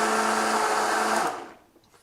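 A blender whirs loudly while making a banana cream pie milkshake, a dense steady roar that runs for over a second before cutting off and trailing away into quiet.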